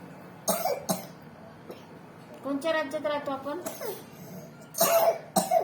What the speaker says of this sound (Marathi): खोकला झाला का तुला?